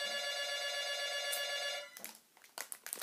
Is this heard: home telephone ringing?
yes